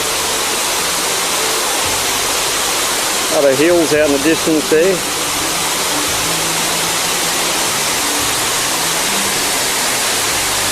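A waterfall at Litchfield National Park pours as a loud, constant rushing roar heard from above, with someone briefly talking over it.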